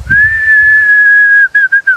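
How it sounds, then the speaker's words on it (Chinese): A person whistles on a mountain ridge: one long, steady, high note held for about one and a half seconds, then three short chirps. Bumping noises sound faintly underneath at the start. "你站在这儿你再打个口哨，"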